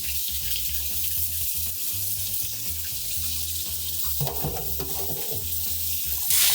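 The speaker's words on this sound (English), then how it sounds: "I'm just using lukewarm water, not cold water, and I'm gonna fill it up until everything is nice and submerged." A kitchen tap runs lukewarm water into a sink to soak fruits and vegetables, a steady rushing stream with splashing, the flow growing louder toward the end.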